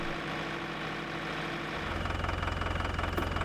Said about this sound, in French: Assurez-vous que l'arbre d'entraînement, PTO, tourne à 540 tours minute.